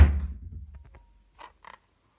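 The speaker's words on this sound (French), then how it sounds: "je ferme la porte parce que des gens hurlent" A door swings shut with a drawn-out creak and a soft thud, followed by a couple of faint clicks from the latch in an otherwise quiet room.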